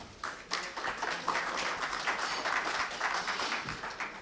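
Audience applause welcoming a speaker at a financial advisors' association conference, a continuous, fairly faint patter of many hands clapping without voices.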